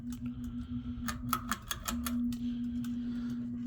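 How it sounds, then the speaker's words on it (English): Chain fob on a Key Largo "Five Footer" 60-inch ceiling fan ticks and clinks against the light fixture in a quick irregular burst of sharp taps, over a steady low motor hum. "Clanging sound you hear as the chain fobs banging off the light."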